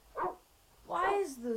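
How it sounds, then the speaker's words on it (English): A dog barks in a psychological short film: two short barks, close and moderately loud, the second trailing off into a whining tone. "Why is Lucy barking?"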